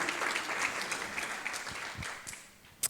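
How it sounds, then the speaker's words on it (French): Applause from university students, the first cohort of a new diploma in respite care, at an inaugural conference, a steady clatter of clapping that fades toward the end, with one sharp clap standing out. "Voilà, vous pouvez vous applaudir."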